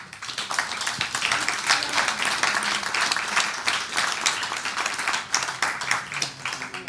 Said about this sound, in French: donc on peut applaudir même s'ils ne sont pas là, Khalifa et Sefatoula.